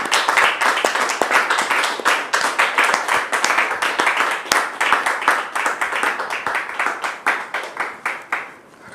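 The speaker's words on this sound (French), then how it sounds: "Recevons le frère David sous vos applaudissements." Loud, close rhythmic clapping from a studio audience welcoming a guest, sharp individual hand claps falling into a fairly regular beat that loosens and thins toward the end.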